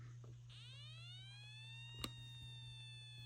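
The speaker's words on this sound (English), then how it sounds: "you can hear the siren" A faint electronic siren tone from a Midland 74-109 weather alert radio sweeps upward in pitch over a steady low hum, followed by a brief click.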